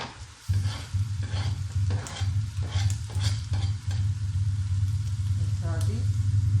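Chopped onions go into a hot pan of frying vegetables, a steady close sizzle with intermittent stirring scrapes and some light background clatter.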